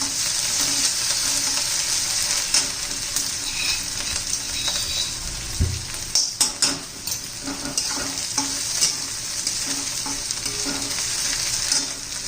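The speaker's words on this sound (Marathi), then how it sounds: "आपली हिरवी मिरची आणि लसूण घालून घेऊ तो पण कांद्याबरोबर छान असा परतून घ्यायचा आहे" Green chilli and garlic sautéing with onion in a pan for a drumstick-leaf vegetable dish, a steady loud sizzle with intermittent scraping stirs and clinks, no voices.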